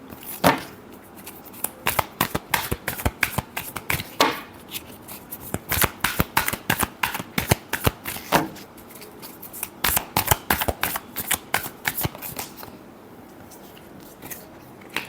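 Tarot cards being shuffled by hand, a long run of crisp riffling and flicking bursts in quick uneven clusters, close and clear, with brief pauses between shuffles and no talk over them.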